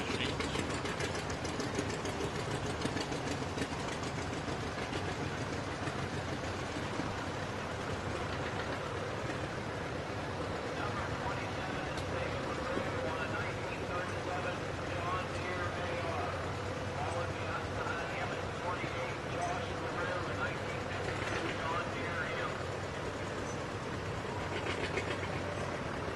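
Restored vintage farm machines run in a farmers day parade, giving a continuous, steady mechanical chugging and rattling drone that holds at an even loudness throughout.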